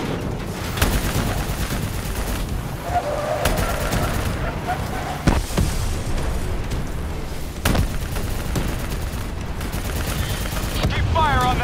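Sustained gunfire and scattered explosions fill a battle in the video game Call of Duty: Black Ops III, a dense, loud barrage with occasional heavier booms and indistinct voices buried in the mix.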